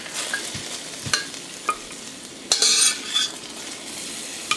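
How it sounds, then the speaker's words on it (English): Lamb pieces are moved from a pot into a slow cooker, giving faint sizzling under a string of light metallic scrapes and clinks from a utensil, with one louder scrape midway. "now I'm going to transfer the meat into the"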